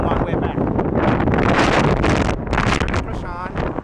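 Strong wind sweeps across a bridge near Hoover Dam, loudly buffeting the microphone in a constant roaring gust with rough surges, and faint voices are mixed in.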